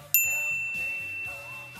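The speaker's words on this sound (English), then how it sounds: "ring the bell to get notified about our latest videos" A notification bell sound effect: one bright, clean ding strikes near the start and rings out with a sustained tone, while a quieter low melodic figure carries on underneath.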